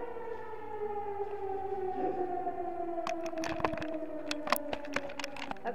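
A fire station siren wails at night, a long rising and falling tone that holds steady throughout, with sharp clicks and knocks nearby in the second half.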